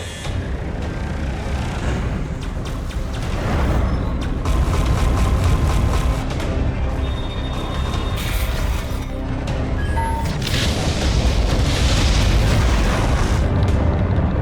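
Loud, dense space-battle explosions from a short science-fiction film, continuous booming rumbles and bursts with swelling blasts throughout, a heavy layered effects mix with no voices.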